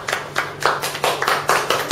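Participants at an everyday leadership skills training program clap in a loose, irregular run of sharp, fairly loud hand claps that sounds like a modest group rather than a big crowd.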